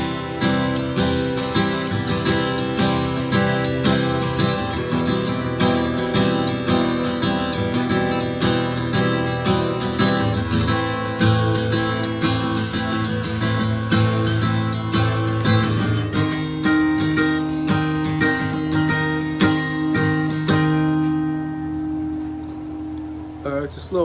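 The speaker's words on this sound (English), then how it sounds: "So the whole verse, or the whole beginning section, sounds like this." Acoustic guitar strumming the verse of a song with ghost strums between chords, a dense continuous rhythmic pattern with bright string chatter, close and fairly loud, settling into ringing chords near the end.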